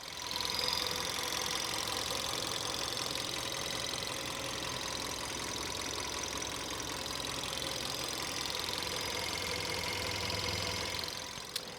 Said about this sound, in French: Le moteur est assez petit, il fait pas beaucoup de bruit. Je vais vous le laisser écouter.